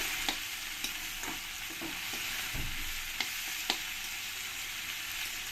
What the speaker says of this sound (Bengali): পেঁয়াজটাকে একটু সময় করে নিয়ে আমি ভেজে নেব